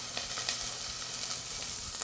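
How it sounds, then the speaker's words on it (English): Chopped onions sizzle steadily in a hot pan over a flame, a close, continuous hiss and crackle with no voices over it. "You hear that sizzling right away."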